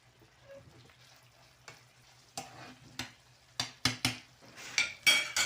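Egg korma is stirred in a cooking pot, with a quiet simmer under a string of sharp spoon clinks and scrapes against the metal that grow louder and quicker toward the end, close up with no speech.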